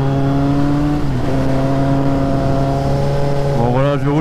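A Kawasaki Z800e motorcycle engine drones steadily while riding, a loud close tonal hum that dips briefly and then climbs in pitch near the end.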